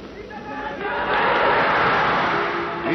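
A large crowd cheers and acclaims Marshal Philippe Pétain, a dense roar of many voices swelling after the first second and staying loud and sustained to the end.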